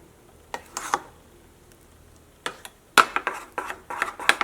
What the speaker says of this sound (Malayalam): ഇതെല്ലാം കൂടിയിട്ട് നമുക്ക് നന്നായിട്ടൊന്ന് മിക്സ് ചെയ്യാം.